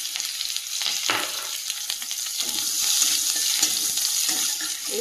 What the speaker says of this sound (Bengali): অবশিষ্ট তেলের মধ্যে দিয়ে দেব গোটা জিরে, রসুন কুচি আর পেঁয়াজ কুচি।